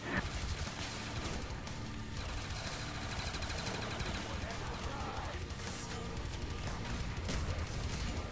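Dense, nearly continuous gunfire and crashing explosions in a Call of Duty zombies game, loud and chaotic throughout, with voices mixed in.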